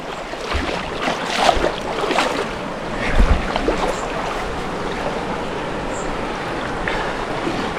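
The Río Genal flows in a steady, full-band rush of water, with a few louder splashing surges near the start and around the three-second mark. No voices are heard.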